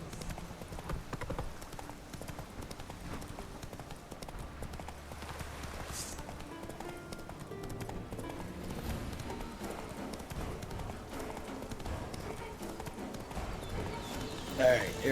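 A horse gallops in the video game Witcher 3, its steady clip-clop hoofbeats running continuously at moderate loudness beneath a talking voice.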